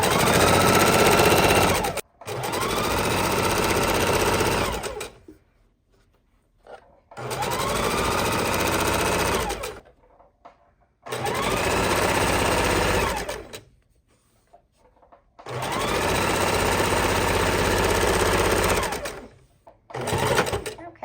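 A sewing machine stitches a tote bag in four long, loud bursts of fast, even whirring, separated by short pauses.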